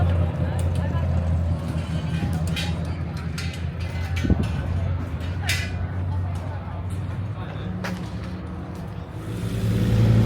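V8 racing car engines at a Silverstone race meeting drone steadily in the background, a low continuous rumble with people talking over it throughout.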